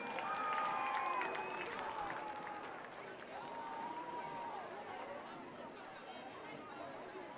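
Crowd applause and cheering in the stands at a high school football game for the Golden Gopher Marching Band: a steady, distant wash of clapping with a public address voice over it.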